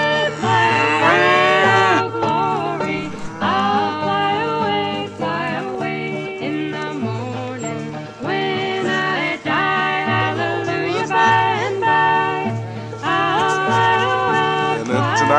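Several cattle, heifers being weaned from calves, moo loudly and repeatedly, long drawn-out calls overlapping one another, close by, with no talking.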